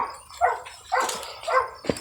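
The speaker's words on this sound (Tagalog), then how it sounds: "Rinig mo yung aso?" A dog barks a few times at a distance, short sharp calls separated by pauses, with a faint outdoor background and no talking.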